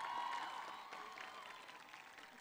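Audience applause at a university undergraduate commencement ceremony, a steady, faint wash of many hands clapping in a large hall that tapers off slightly over a couple of seconds.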